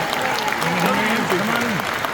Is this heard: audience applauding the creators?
yes